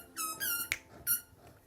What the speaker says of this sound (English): She like starts squeaking the ball as soon as I talk.